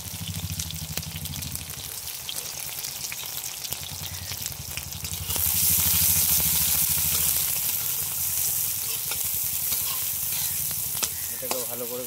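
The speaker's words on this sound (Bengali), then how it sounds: "আমাদের তেল গরম হয়ে গেছে। এর মধ্যে এবার জিরে দিয়ে দেবো, তারপর আমরা পেঁয়াজ আর কাঁচা লঙ্কা দিয়ে দেবো।" Chopped onion and green chilli fry with cumin seeds in hot oil, a steady close sizzle that grows louder and brighter partway through as the ingredients go in, with light stirring scrapes and no talking.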